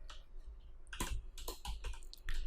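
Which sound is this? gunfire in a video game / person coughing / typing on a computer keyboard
typing on a computer keyboard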